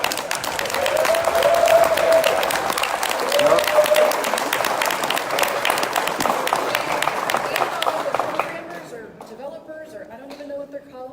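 Audience applause at a company product-release event in Texas, a dense, steady roar of clapping that swells and holds for about eight seconds before thinning out as a voice begins to speak.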